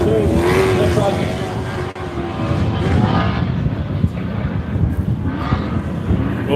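Four-wheel drive vehicles race through puddles in an adventure park at the Loveday 400 off-road event, engines droning and revving continuously at close range, with a commentator talking over them.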